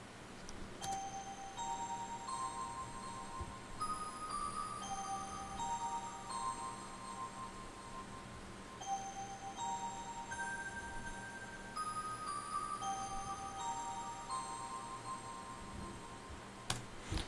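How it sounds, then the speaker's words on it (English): Pretty bells patch from a JV 1080 run through Fruity Delay in FL Studio for an 80s-style beat, soft chiming notes with echoing repeats over a faint low groove, quiet and alone. "those are bells. I got them out of JV 1080. I think they're the pretty bells"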